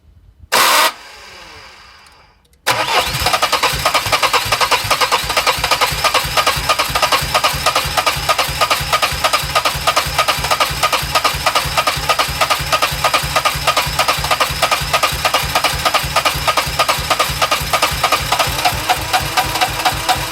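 A starter motor cranks a 16-valve car engine continuously without it catching. The loud, fast, steady churning rhythm follows a brief clunk and quiet pause.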